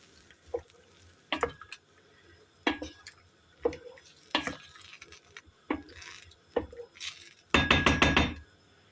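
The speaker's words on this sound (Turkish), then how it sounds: "Böyle üzerine çıkacak kadar bir su ilave edeceğiz." Zucchini dish cooking in a pan as water is added, with a string of short sharp clinks and scrapes of a utensil against the pan, ending in a loud burst of hissing sizzle near the close.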